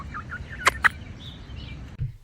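A pet rooster gives two quick, sharp calls close to the microphone, standing out over a quiet background with soft chirps.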